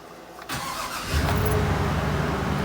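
An LS engine with a misfire cranks and catches after about a second, then settles into a loud, rough, uneven idle close by.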